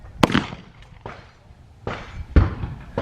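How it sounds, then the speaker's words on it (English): Draco semi-automatic pistol firing four loud, sharp, separate shots at uneven intervals. Each shot has a short echoing tail, and no voices are heard between them. "I'm over here shooting the Draco"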